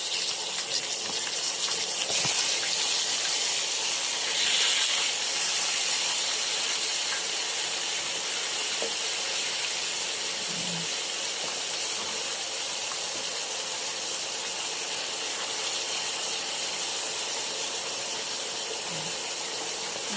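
Chicken pieces, breast and wings, sizzle in a hot pan while being sautéed for a Filipino adobo. A steady, bright hiss holds throughout, and faint clinks and stirring sounds come in now and then.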